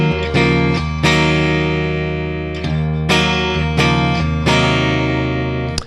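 Clean channel of a guitar amplifier, played through a Digitech RP1000 switching system: bright, ringing guitar chords strummed in several distinct attacks that sustain and overlap, loud and close with no talking.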